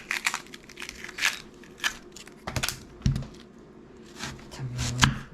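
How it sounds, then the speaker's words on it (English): A knife chops through tomatoes on a board in short, uneven crunchy cuts with a few louder thuds, close and moderately quiet, while food is prepared for chicken enchiladas. "Cut off both ends of the get to the tomatoes"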